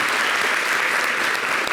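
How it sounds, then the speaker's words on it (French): Studio audience applause on a French local TV talk show, a dense steady wash of clapping held at an even loudness from start to finish with no voices over it. "On peut applaudir Sonia quand même"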